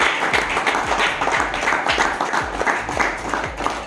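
An audience at a motivational question-and-answer session on fighting addiction claps together, a dense run of hand claps that holds steady and fairly loud for the whole stretch.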